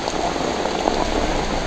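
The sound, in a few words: light rain falling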